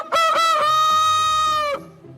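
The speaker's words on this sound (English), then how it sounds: "He makes a lot of noise because he's a rooster." Maurice, a rooster in France, lets out one loud, close crow: a couple of short rising notes, then a long sustained call lasting about a second and a half before it cuts off, with no talking.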